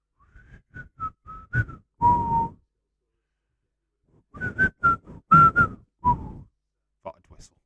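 Referee's whistle at a Leeds United v Crystal Palace Premier League football match, sounding as a run of short, sharp tonal blasts in two clusters separated by a pause.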